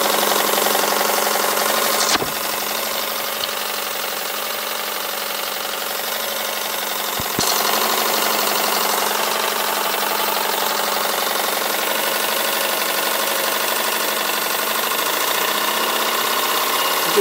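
A large gas burner roars at full blast at 45 psi, a loud, steady, continuous rushing roar with a couple of brief dips, no voices.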